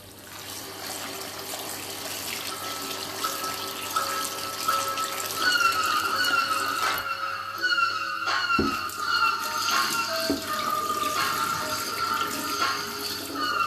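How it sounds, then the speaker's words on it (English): Water runs steadily from a kitchen tap into a sink while food for a Caribbean soup is rinsed beneath it, a continuous splashing stream with brief clunks and shifts in flow, close and moderately loud. "So again, I'm going to wash these off."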